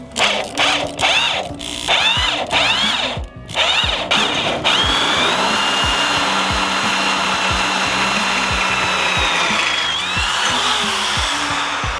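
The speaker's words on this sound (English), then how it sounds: "drill through the subfloor and into the trailer" A power drill whirs in short bursts, then runs continuously with a high whine as it bores through a wooden tiny house subfloor into the trailer, close and loud.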